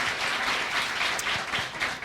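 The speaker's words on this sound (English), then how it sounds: "Let's give them a round of applause." An audience at a school quiz competition final applauds the competitors, a full, even round of clapping that carries steadily from start to finish without talk.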